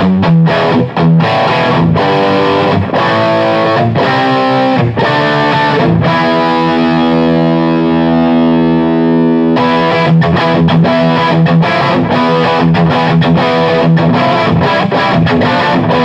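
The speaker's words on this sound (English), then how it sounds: "I'm plugged into the Fire Mist by Free the Tone, and it's blowing my mind." Electric guitar through a Free The Tone Fire Mist FM-1V distortion pedal, loud and saturated, with chugging riffs broken by a long sustained chord ringing out in the middle before the heavy riffing resumes.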